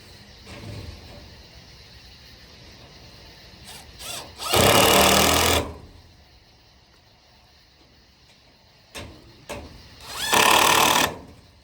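A power tool grinds at hardware cloth on a homestead, two loud harsh bursts of a second or so each, separated by quieter rattles and background noise.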